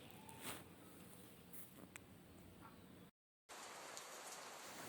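Heavy rain pours steadily as a soft, even hiss with occasional sharper drops, faint and distant, broken by a brief gap of silence partway through.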